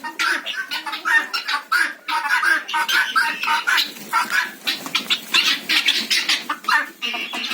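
A gander goose among farmyard chickens raises a loud, continuous stream of squawks and clucks close by, mixed with flurries of flapping wings.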